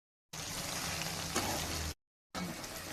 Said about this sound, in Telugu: ఇదండి మంచిగా ఎంత బాగా క్రిస్పీగా ఫ్రై అయినాయి